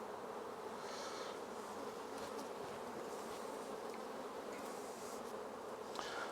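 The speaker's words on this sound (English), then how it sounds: "Looks like we've got a lot of bees in here still" Honey bees buzzing inside a nucleus hive being opened for inspection, a steady dense drone close by with a few brief higher whines of individual bees passing, no voices.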